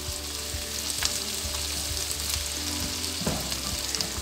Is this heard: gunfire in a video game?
no